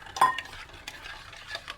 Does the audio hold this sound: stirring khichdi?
yes